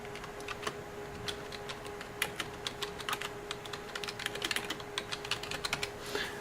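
Computer keyboard typing in a lab setting, a steady run of light, quick key clicks over a faint constant electrical hum from nearby equipment, with no talking.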